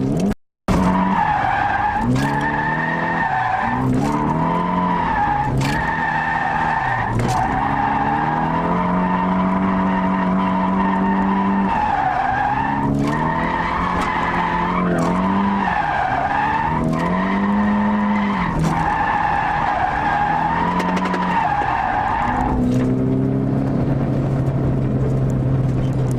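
A drift car with basic suspension slides through repeated loud tire squeals and skids over a constant high-revving engine, with the throttle gently blipped on and off in a steady pulsing rhythm.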